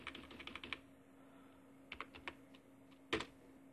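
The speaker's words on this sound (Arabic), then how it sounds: "نقوم بكتابة ميسي رونالدو وبينهما أكتب كلمة OR" Someone types a Google search on a computer keyboard: quiet clusters of light key clicks in short bursts separated by pauses, with one louder keystroke near the end.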